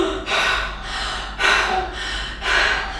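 A voice imitates heavy dog panting, three loud breathy bursts in a steady rhythm, close to the mic with short pauses between.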